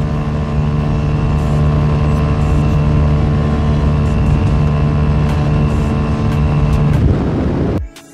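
A Yamaha YBR125 motorcycle engine, recently fitted with a new piston, drones loud and steady at top speed with a sustained high whine, then cuts off abruptly near the end.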